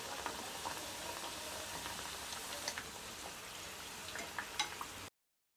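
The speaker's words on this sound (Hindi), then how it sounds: "और अब बाकी के समोसों को भी इसी तरह फ्राई कर लेते हैं" Samosas deep-frying in hot oil with a faint, even bubbling crackle and scattered small pops, continuous until it cuts off abruptly into silence.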